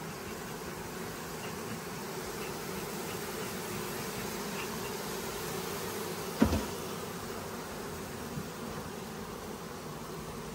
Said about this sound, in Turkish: Arıya çok değer veriyoruz, öldürmüyoruz.